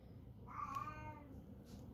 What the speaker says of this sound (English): Cat, be quiet.